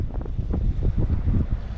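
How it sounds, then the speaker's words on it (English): Wind buffets the microphone while cycling outdoors in Japan, a steady low rumbling roar with gusty surges throughout, loud and close, with no voices. "I thought maybe if I turned it'd be less windy"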